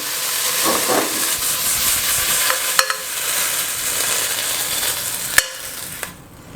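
Beef stir-frying in a hot pan for Thai coconut soup with salted beef, a steady close sizzle and hiss with a few sharp clinks of the utensil against the pan, no voices.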